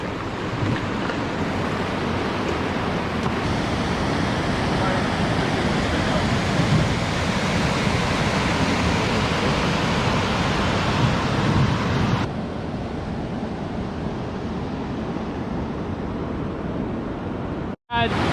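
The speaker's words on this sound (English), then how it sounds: "Just scouting this rapid quick." Rapids on the Temagami River give a loud, steady rush of churning water close by, mixed with wind buffeting the microphone, and the noise holds without a break for the whole stretch.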